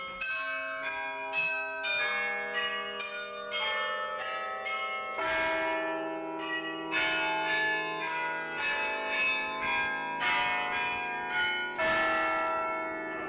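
Carillon bells of the Dome Tower of Utrecht ring out a melody of overlapping struck notes with long, shimmering decays, loud and continuous with no voices.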